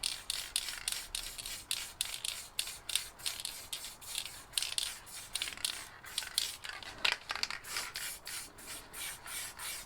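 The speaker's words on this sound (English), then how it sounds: "I'm just going to spray that lightly around there." Black spray paint hisses from a can in many quick, light bursts, some sputtering as a clogged cap spits, close and steady with no talking.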